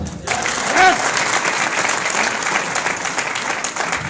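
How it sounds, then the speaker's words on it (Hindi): Steady, dense audience applause at a business plan event, many hands clapping continuously at close range, with a brief voice near the start. "तालियां बजा के बताएं"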